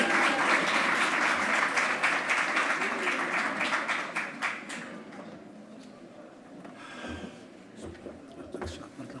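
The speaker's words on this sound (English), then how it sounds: "Can you give him a round of applause?" Audience applause at the official launch of the 2024 school governing body elections, a dense sustained crowd clapping that swells loudly at first, then thins and fades with scattered claps toward the end.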